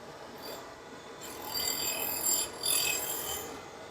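A bench grinder wheel cuts a screwdriver slot into a bolt for a grinding fixture handle, giving a steady harsh metallic rasp that swells louder midway, close and continuous with no voices.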